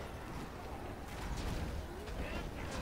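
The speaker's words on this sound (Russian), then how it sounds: "Какие-то петарды бросают." Siege battle in the Lord of the Rings strategy game Edain Mod at Stonewain Valley, with firecracker-like bursts and dense crackling battle noise scattered through a loud, continuous din.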